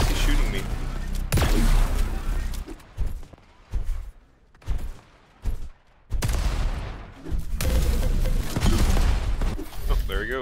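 Bursts of rapid gunfire and thuds in the arena shooter Diabotical, loud clusters broken by brief quiet gaps, with a player talking over parts of it.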